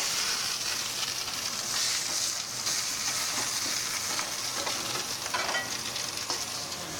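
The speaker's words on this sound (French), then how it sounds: "On va les rissoler avant de les passer au four" Potatoes sauté in a hot pan, giving a steady close sizzle and crackle with occasional stirring scrapes and pops throughout.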